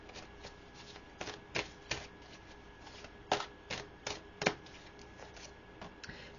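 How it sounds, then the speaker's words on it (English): A deck of tarot cards is shuffled and pulled at close range. Quiet crisp flicks and riffles repeat irregularly over several seconds, with a faint steady hum underneath and no voices. "Let's pull some more cards here."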